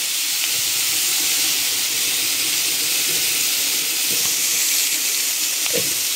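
Bitter gourd (karela) fries in a pan with a steady, loud sizzle and hiss that holds throughout, broken only by faint scattered crackles.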